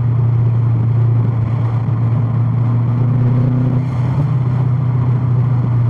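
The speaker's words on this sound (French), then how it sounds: "La dump, très stylé le bruit." Subaru Impreza WRX with an STI engine block runs steadily close by, a strong low drone with a brief rising whoosh near the middle, likely from the dump valve venting.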